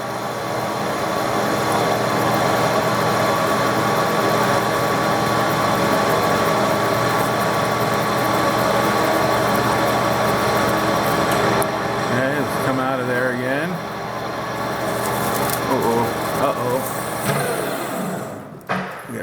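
A lathe machines a long, slender metal part with a steady, close mechanical whine and hum that runs throughout, shifting slightly in tone near the end, with occasional talk mixed in.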